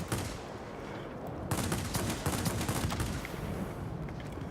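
Cannon and gunfire from the BV 210 aircraft in a flight combat video game, dense rapid bursts over a constant engine drone, with firing heaviest in the middle stretch.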